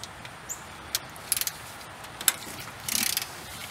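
Bolts being loosened from the thermostat housing of an old Ford truck with a ratchet: scattered short metallic clicks and taps, a few spaced bursts and a denser rattle near the end, close and fairly quiet, with no talking.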